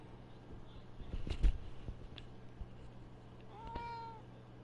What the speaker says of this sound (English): Oh, that cat on the hold list.